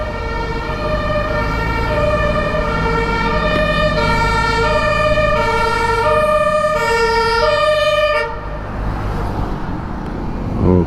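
Loud, continuous wailing sirens from ambulances and police vehicles close by on a Berlin street, their tones overlapping and cycling over steady road traffic noise.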